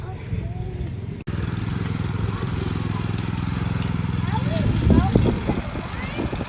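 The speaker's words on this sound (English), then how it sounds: "Dad's doing a weird mow of the lawn" A lawn mower runs through a garden lawn with a steady, close engine drone that swells slightly near the end, while children's voices chatter faintly over it.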